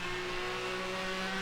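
A Porsche engine in the racing game NFS Hot Pursuit holds a steady, raspy high-pitched drone in a brief burst, loud and even.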